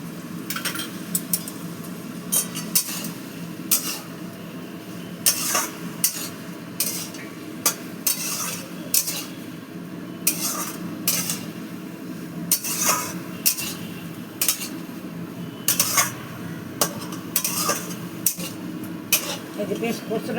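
A metal utensil scrapes and knocks against a pan while poppy seed paste ground with green chillies is stir-fried with bottle gourd greens, irregular clinks and scrapes over a low sizzle.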